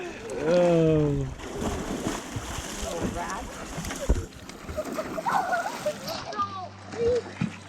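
Water splashes and sloshes around a canoe carrying a family on cold water, with paddle strikes and spatters coming in uneven bursts close by, under frequent talking and laughter.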